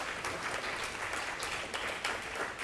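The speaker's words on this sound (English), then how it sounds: "I request all of you to give a big round of applause for the exchange" Audience applause fills a live-streamed National Research Development Corporation event: steady, dense clapping from a crowd, moderately distant and continuous with no talking over it.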